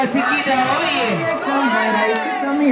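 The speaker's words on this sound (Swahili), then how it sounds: "Makofi na vigelegele." Crowd noise at a Singida women's award ceremony, with cheering, whoops and high trilling ululation rising over a steady roar of voices, loud and continuous throughout, with people shouting and chattering.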